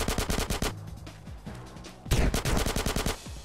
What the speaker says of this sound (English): Anyway, the shotgun's fun.